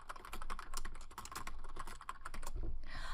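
Typing on a computer keyboard while coding in RStudio gives quick, quiet, irregular clicks and taps in a continuous burst, close by and with no speech.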